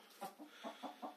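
Hens on a rural Bulgarian homestead give a quick run of about five soft, low clucks in an uneven rhythm, faint and close, with no talking.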